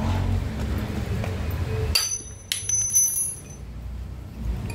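Old NMAX V1 ball race bearing being pried loose with a metal pipe: a bright metallic clink around the midpoint, then a few sharp scraping taps and rattles over low background rumble.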